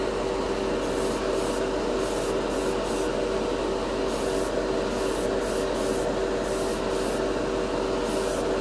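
An airbrush driven by a compressor set to 20 PSI sprays MODO metallic metal-colour paint onto a scale model, giving a steady, close hiss with no talk over it.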